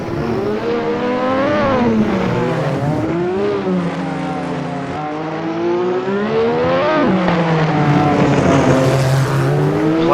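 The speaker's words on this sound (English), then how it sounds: "So wringing every single rev out of the engine." A Lotus 98T Formula One car in a racing video game at Monaco screams at full revs for ten seconds, its pitch sweeping up and down through gear changes and corners. Loud, continuous and alone, with no talk.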